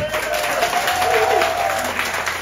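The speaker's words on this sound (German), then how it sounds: "Meine Damen und Herren, großen Applaus für unseren Kapitän Vincent Zofalka." Crowd of passengers aboard the AIDAcosma cruise ship applauding the captain, a dense, sustained round of clapping with a faint tone and murmur underneath.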